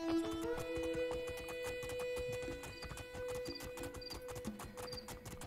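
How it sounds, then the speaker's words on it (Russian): Rapid, even hoofbeats of a galloping horse in the video game Two Worlds II, clip-clopping steadily and close over a sustained musical drone with bright tonal chimes, and no talking. "На лошадке гонять не так уж и сложно."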